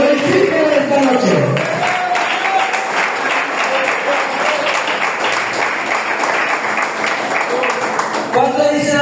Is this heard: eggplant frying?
no